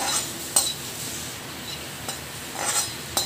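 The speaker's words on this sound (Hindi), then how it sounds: "ये नमकीन में डालने के लिए मैं इसे देसी घी में भून रही हूँ।" Cashews and almonds roasting in desi ghee in a pan, with a few faint stirring scrapes and soft clinks over a low, steady sizzle.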